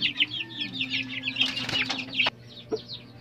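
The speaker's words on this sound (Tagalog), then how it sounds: "ito na pala yung mga sisiw din natin, oh. Ayan, malalaki na yung ating mga sisiw" Chicks and grown chickens cluck and chirp in a backyard, a busy run of short calls up close with brief wing flutters and a sharper clatter near the end, no talking.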